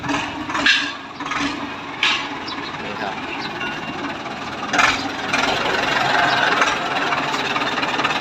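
A Ford 6600 tractor engine runs in the background with a steady low rumble and irregular knocks and clanks, while someone talks over it for much of the time.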